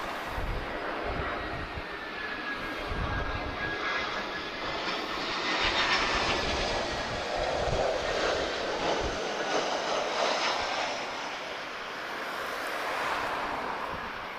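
Aer Lingus airliner departing Lisbon Airport, a steady, broad jet roar that swells and eases over the whole stretch, heard from a distance with no voices.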